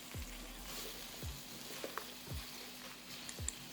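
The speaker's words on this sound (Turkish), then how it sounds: "tereyağımız eridi ve hemen mantarlarımızı döküyoruz" Thinly sliced mushrooms, about 150 grams, tipped into melted butter in a frying pan, giving a faint, steady sizzle with a few soft low knocks as they land.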